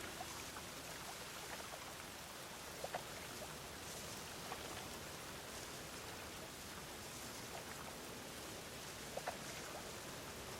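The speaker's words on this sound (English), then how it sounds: "Witches have conjured rain again." Steady rain in The Witcher 3: Wild Hunt video game hisses evenly throughout, with occasional brighter drips and taps standing out against the soft wash of falling water.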